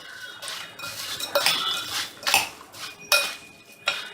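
A spoon clinks and scrapes around a bowl, mixing a Maharashtrian street snack of puri, chutneys and sev. Bright metallic knocks come in irregular bursts, close and clear, with no talking.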